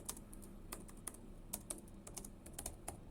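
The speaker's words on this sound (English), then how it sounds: "So I type kubectl get all-n" Rapid keystrokes on a computer keyboard as a command is entered at a terminal, a steady run of crisp, close clicks with brief pauses, no voices.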